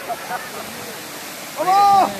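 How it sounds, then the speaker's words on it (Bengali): Steady rushing roar of a nearby waterfall, constant throughout, with a short voice near the end. "এই যে আমরা ঝর্ণার কাছে চলে আসছি।"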